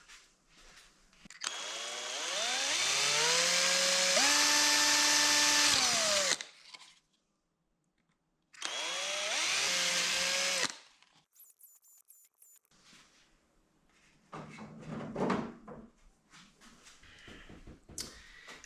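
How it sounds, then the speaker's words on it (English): A power drill whirs loudly in two long bursts, drilling holes in a car, its whine rising and settling as it bites, followed by quieter clattering and handling noises. "Let me drill some holes in this."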